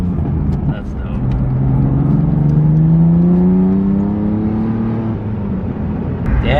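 BMW F80 M3 accelerating on a drive, its engine note rising steadily in pitch through a gear as the rumble builds, then easing off near the end, heard from inside the car.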